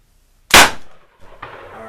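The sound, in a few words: 303 British Enfield rifle gunshot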